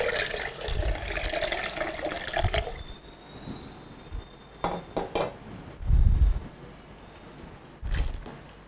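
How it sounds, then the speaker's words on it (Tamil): Water is poured into a cup of beaten curd to make buttermilk, five cups in all. A steady splashing pour lasts a couple of seconds, then come quieter trickles, drips and a few light clinks. "இப்போ நான் 5 கப் தண்ணி ஊற்றிருக்கேன்."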